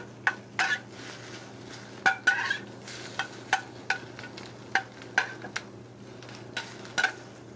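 Shrimp cooking in a restaurant pan, with intermittent metal clinks and scraping from a utensil or pan handling, roughly a dozen sharp hits spaced across the clip over a steady low kitchen hum and soft sizzle.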